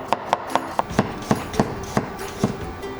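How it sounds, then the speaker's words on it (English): Knife cutting cucumber into very thin diagonal slices on a board, about a dozen crisp, close chopping taps at an irregular, steady pace with no talking. "let's make very thin diagonal slices first"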